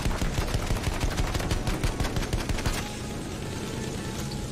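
Rapid automatic gunfire from Battlefield 1, fired at a bomber aircraft, a dense run of shots for about three seconds that then gives way to a steady roar of battle noise.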